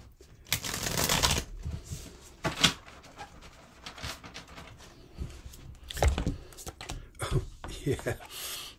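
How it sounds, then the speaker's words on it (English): Tarot cards being shuffled by hand in a few quick riffling bursts, close and crisp, separated by short pauses with soft handling noises. "Let's just give these cards one or two more shuffles."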